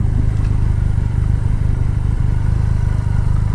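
Triumph Rocket 3 motorcycle under way at speed, a loud, close, steady engine drone with a rhythmic low throb and wind rush, held at light throttle without revving changes.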